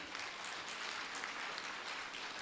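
Steady applause from a seated audience at a Tamil pattimandram debate show, a dense continuous patter of many hands clapping throughout with no voices over it.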